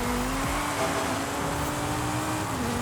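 A race van with over 1,000 horsepower holds a steady, loud engine drone, with a sharp drop in pitch partway through as the throttle eases, then a sustained rumble.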